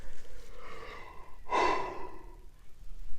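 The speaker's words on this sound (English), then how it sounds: "I keep yawning" A person yawns, a long drawn breath rising into an open, airy exhale that swells midway and fades out, heard alone without talk.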